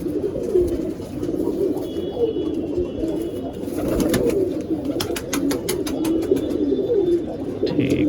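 Soft, repeated cooing of golden chhapka pigeons in a loft, several birds overlapping in a low burbling chorus, with occasional wing flutters and faint clicks in the background.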